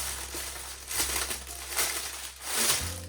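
Plastic packaging bag from a Taobao parcel crinkles and crackles close up during unboxing, in several short bursts of rustling with no talk.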